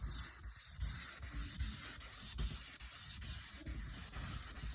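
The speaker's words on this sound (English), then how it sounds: "we have a flexible sanding block because of the curves" A Corvette hood is wet sanded by hand with a flexible sanding block, giving steady rhythmic rasping strokes, close and fairly quiet, with brief pauses between passes.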